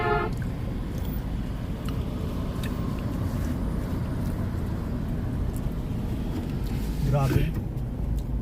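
Busy road traffic in Bonifacio Global City, Philippines: a constant low rumble of engines and tyres, with a faint horn or whine near the end, under occasional talk.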